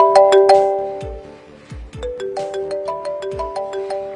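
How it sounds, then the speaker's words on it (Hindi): A mobile phone rings for an incoming call, its bright melodic ringtone repeating loud and clear in a domestic setting, with no talking over it. "लो बेटा मेरे दूसरे दामाद का फोन आ गया"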